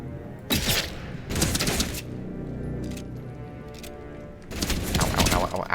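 Bursts of gunfire in the game Atomfall, three dense volleys of rapid cracking shots separated by quieter gaps, with a voice talking in between.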